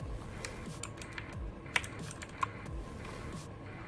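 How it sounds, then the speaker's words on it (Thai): Typing on a NUBWO NK60 Ultimate mechanical RGB keyboard with blue switches: a steady run of quiet clicky keystrokes, a couple of sharper clacks standing out, heard alone. "ตัวสวิต์นะครับสวิต์ของ คีย์บอร์ด นะ เป็น บลูสวิต์นะครับ"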